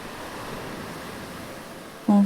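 Sea waves wash over sand and pebbles in a continuous soft roar at an even level, with a brief louder tonal sound at the very end.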